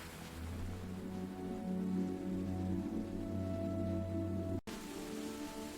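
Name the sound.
rain in a storm, story sound effect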